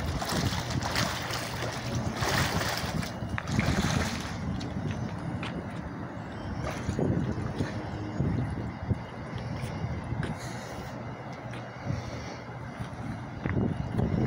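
Turbulent water churns around a moving boat, a continuous rushing wash with gusty wind buffeting the microphone, steady and fairly loud with no voices.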